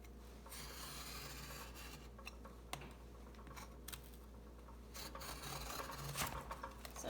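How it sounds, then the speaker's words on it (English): Chipboard being cut along a line gives a quiet, steady scraping and rasping up close, with small ticks and a few brief louder scratches, and nobody speaking. "Then I'm going to cut across this line."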